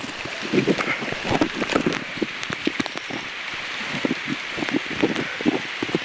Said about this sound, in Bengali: বৃষ্টির শব্দটা শুনতে খুব ভালো লাগতেছে, পাতায় টুপটাপ টুপটাপ বৃষ্টির শব্দ।